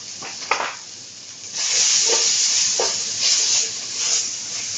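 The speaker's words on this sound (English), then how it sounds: "Mix it well and let the spices get fried in." Vegetable hakka noodles tossed with black pepper, red chilies and garam masala in a hot pan: a steady, fairly loud frying hiss with a few soft stirring scrapes and swells, no voices.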